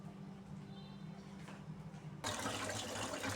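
Tap water gushes into a kitchen sink as food is rinsed, starting suddenly partway through after a quiet, humming room and continuing as a steady, close rush.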